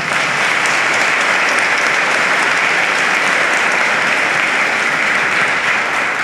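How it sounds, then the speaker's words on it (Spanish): A church congregation at Sunday Mass gives the teachers a round of applause: dense, steady clapping from a large crowd that fills the room evenly and continues without a break. "démosles también un aplauso"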